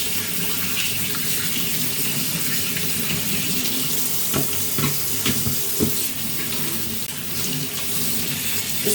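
Tap water runs steadily into a kitchen sink during cleaning, a continuous close splashing rush with occasional clunks of items being rinsed, with no talking.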